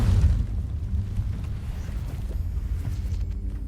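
Incendio fire spell cast in Hogwarts Legacy, a low whooshing burst at the start that trails into a crackling, rumbling roar for a few seconds, no talking.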